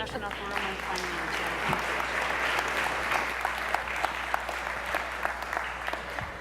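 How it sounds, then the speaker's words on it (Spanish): A crowd applauds steadily, a dense wash of clapping that continues throughout with no voices. "Un aplauso, por favor."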